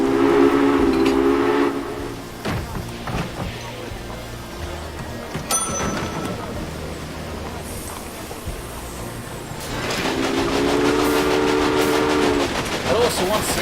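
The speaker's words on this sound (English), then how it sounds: "Train is very loud." A loud train in the Railway Empire video game rumbles and clatters continuously, with two long whistle blasts, one at the start and another near the end, and a brief sharp tone in between.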